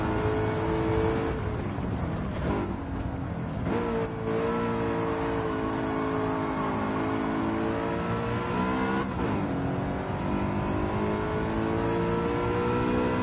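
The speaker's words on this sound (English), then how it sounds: "So that Mercedes is definitely a better sounding car out of these two, that V8, AMG V8." A Mercedes AMG V8 in Gran Turismo 7 roars steadily under load, its deep engine note rising and falling through revs and gear changes across the whole stretch, loud and close, with no voices.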